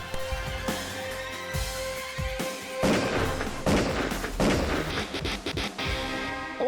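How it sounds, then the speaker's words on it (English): Gunshots ring out in a reenacted park robbery, several sharp cracks and booms scattered irregularly over continuous noisy background clatter. "She's shooting."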